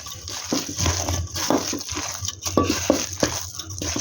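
Chilli powder being mixed by hand into masala vada batter in a bowl: close, wet squelching and stirring with irregular soft thuds and occasional bowl clinks, no talk.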